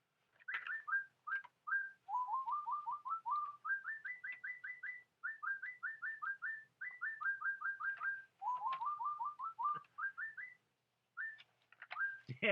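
Toy bird whistling in quick runs of chirpy, coo-like notes that rise and fall, repeating continuously in short bursts with brief pauses, close and fairly loud with no talking.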